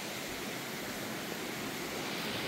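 Steady broadband rush of water from the Vasundhara Waterfall at Bhandardara, Maharashtra, a dense continuous roar filling the whole stretch with no voices, fairly even in level throughout.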